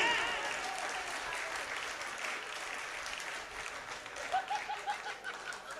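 Audience clapping fills a Hindi comedy poetry (hasya kavi) show, a steady dense wash of applause that thins toward the end, with a few scattered chuckles.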